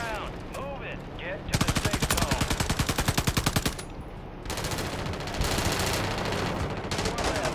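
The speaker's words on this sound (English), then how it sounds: "Somebody shooting at me." Gunfire during a Call of Duty Resurgence match: a sharp rapid automatic burst bursts in after quieter game noise, then fades into scattered shots and rumbling battle sounds, with faint voices in the background.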